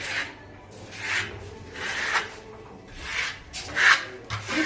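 A steel trowel rasps across a wall spreading loft-style decorative plaster, with about five close, rhythmic up-and-down scraping strokes and no talking.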